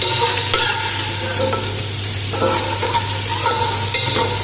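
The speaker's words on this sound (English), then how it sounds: "Put your onion also here. Okay, and mix well." Chopped onion is stirred in a cooking pot for peas pulao, with rhythmic scraping strokes about once a second over a constant sizzle and low hum, close and fairly loud, with no talking.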